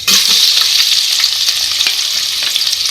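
Chopped onion sizzling loudly in hot mustard oil in a pan, a continuous bright crackle with a few stirring scrapes, close up and without talk.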